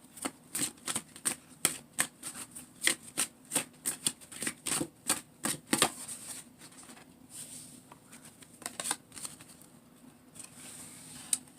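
A deck of tarot cards is riffled and shuffled nearby in a run of sharp, papery flutters and slaps, busy at first, then thinning into scattered softer shuffles.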